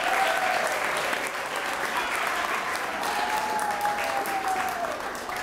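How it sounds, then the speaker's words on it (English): An audience at an outdoor Black American Heritage flag raising ceremony in Springfield gives sustained applause, a steady wash of many hands clapping at moderate distance, with a faint thin tone running through it. "Let's give them a round of applause."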